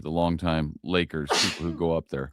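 At a citizens' advisory board meeting, a single sharp sneeze bursts out in the middle of a man's ongoing speech, a brief noisy blast set between his spoken words.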